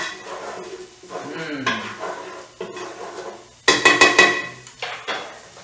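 Mussels cook in a pot with olive oil and butter. Irregular, close clatters and scrapes of shells against the metal pot come as they are stirred, with one loud burst of rattling in the middle.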